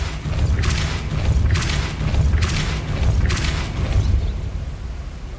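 Repeated Depulso force spell casts in Hogwarts Legacy, each a deep whooshing boom with a bright burst on top, arriving about once per second over a continuous low rumble, loud and close with no talking.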